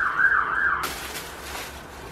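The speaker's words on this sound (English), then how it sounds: "Oh, the sirens." A wailing siren sweeps up and down for a moment, then cuts to a broad steady hiss; the siren sounds moderately distant.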